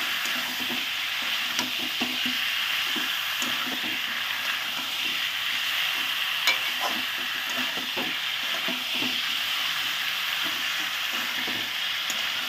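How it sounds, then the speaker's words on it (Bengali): Chicken pieces stirred with spices in a frying pan for a home-made chicken curry, a constant sizzling hiss under repeated scraping and clinking of the spoon against the pan, close and steady. "এখন মাংস দিয়ে এখন ভালো করে নেড়ে চেড়ে নেওয়া হচ্ছে মশলার সঙ্গে।"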